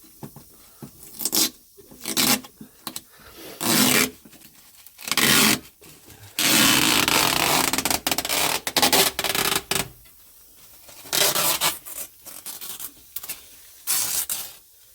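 Light rubbing down of a Lancer Evo 5 chassis leg part, heard as bursts of close, loud abrasive scraping and rasping strokes separated by short pauses, with one longer continuous rub in the middle.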